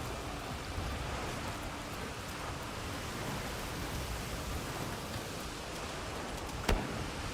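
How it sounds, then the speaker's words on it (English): Heavy in-game rainfall from Monster Hunter Wilds pours down as a steady, dense hiss that fills the whole stretch, broken only by one brief sharp crack near the end. "A downpour like this could have an effect on the monsters"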